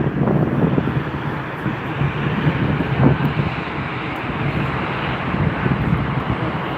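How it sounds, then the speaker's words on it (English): Embraer E190 jet of LOT Polish Airlines at Frankfurt Airport, a loud, steady engine roar with broad rushing noise and some wind buffeting, continuous throughout. "The aircraft is an Embraer E190."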